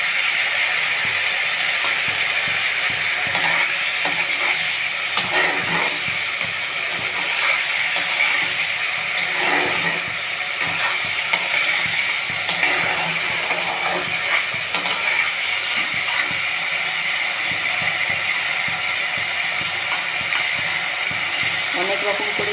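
Rohu fish frying in hot oil as leftover spiced washing water is added a little at a time, giving a steady hiss and sizzle with bubbling crackle throughout, loud and close.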